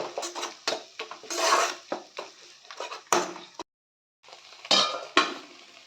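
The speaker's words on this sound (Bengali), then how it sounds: "ভালোভাবে মশলাগুলিকে কষিয়ে নেব।" Spice paste with ginger and green chili is stir-fried in a pan, heard as irregular scraping and clanking of a spoon against the pan in short bursts, with a brief silent gap.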